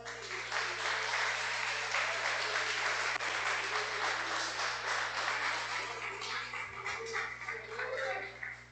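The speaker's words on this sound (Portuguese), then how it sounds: "Aplauda Jesus aí, irmãos." A church congregation applauding at a service, a sustained wash of clapping over a low steady hum, moderately distant throughout.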